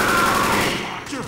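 Rapid gunfire from the video game Left 4 Dead, a loud, dense burst of overlapping shots that runs throughout and fades slightly toward the end.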